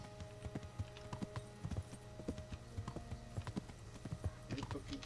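Horse hooves clip-clop in a steady walking rhythm in the medieval video game Kingdom Come: Deliverance, fairly quiet and close, with someone speaking Spanish over them.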